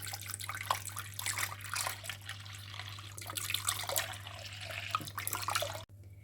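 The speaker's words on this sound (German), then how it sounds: "und gebe Milch hinein." Milk poured into a pot of cooked garlic and water for a traditional Bosnian kljukuša dish, a steady liquid trickle and splash running for several seconds over a low hum, then stopping abruptly.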